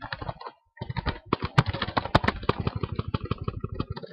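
Rapid, irregular keystrokes on a computer keyboard, close and fairly loud, with a brief pause early on before a steady burst of clicking.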